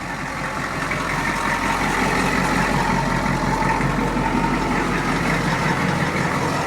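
A 1991 Ford F250 truck engine running, a steady low rumbling idle with a constant even drone and no talk over it.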